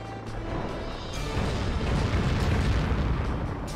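Missile explosions in the PS2 flight game Pacific Warriors II Dogfight, a loud rumbling roar of blasts that swells after the first second and holds steady.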